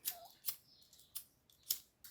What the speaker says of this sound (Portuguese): deixa eu cortar esse excesso de zíper aqui